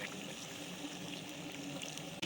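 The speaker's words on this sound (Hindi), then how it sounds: "1 कप हम इसमें पानी का लगाएंगे" A cup of water pours steadily into a cooking pot of small onions and beef, a continuous close splashing and gurgling with no talk.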